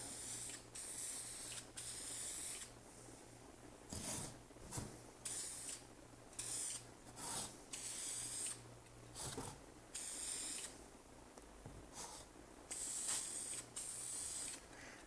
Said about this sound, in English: So we'll do some spraying here.